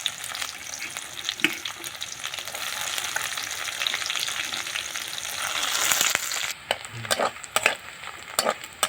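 Onion and bay leaves fry in hot oil after fish, giving a steady close sizzle with stirring scrapes, and the frying sharpens in the final seconds.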